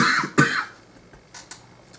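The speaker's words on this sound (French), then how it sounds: "Désolé si je tousse plusieurs fois." A single short, sharp cough, preceded by a brief vocal sound and followed by faint breathy noises.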